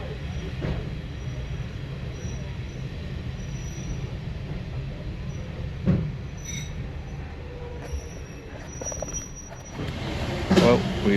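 A train rumbles steadily along the rails into Weybourne station with occasional metallic squeals and clunks, growing louder near the end, with faint voices in the background.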